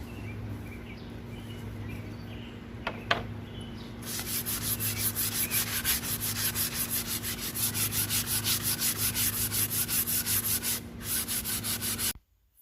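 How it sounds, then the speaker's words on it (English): Mirror frames being sanded by hand with rough-grit sandpaper: after a few quiet seconds, a loud, steady back-and-forth scrubbing starts and repeats in a fast, even rhythm for about eight seconds, then stops abruptly. "I had to give them a quick sand."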